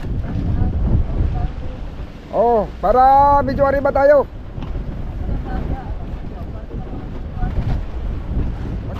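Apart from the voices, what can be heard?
boat on moderate sea waves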